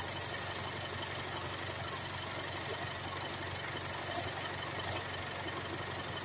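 A Jaguar XE 2.0 engine idles steadily during SCR system cleaning, a low, even hum with faint mechanical rattle and no voices, heard from a moderate distance.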